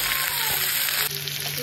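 Five-spice tempering with dried chilli and potato frying in hot oil in a wok, a bright, steady close sizzle with a light stir, no talk.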